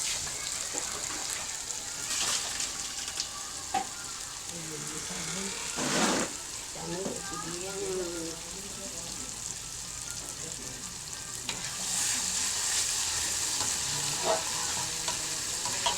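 Red chili sambalado from West Sumatra frying in oil, with a steady broadband sizzle running throughout and intermittent scraping stirs and utensil knocks, moderately close, while a voice speaks softly in places.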